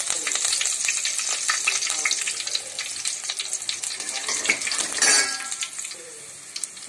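Onion and curry leaves sizzle and crackle in hot oil while tempering for dal, a steady bright frying hiss with scattered pops and some stirring, close and continuous.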